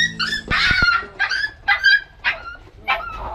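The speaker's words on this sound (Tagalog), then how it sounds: "aso to dito, si Hanji" A dog gives a run of short barks, yips and whimpers, a loud first burst followed by five or six quicker, evenly spaced yelps close to the microphone, with no talk.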